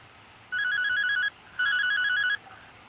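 A mobile phone ringtone plays a bright electronic melody in two clear bursts of under a second each, separated by a short gap, over a quiet indoor room.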